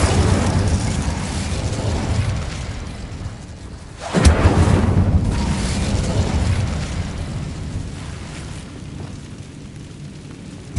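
A fire spell blast erupts in the Hogwarts Legacy game, a sudden loud burst near the middle followed by a sustained roaring rumble that slowly fades, set against a dense, noisy game soundscape.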